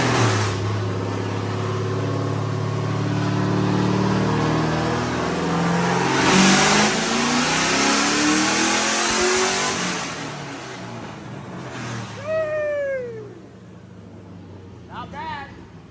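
LS V8-swapped Lexus IS300 on a dyno in a shop, a loud sustained engine pull with rising pitch that drops off and fades, followed by faint squeaks and rattles.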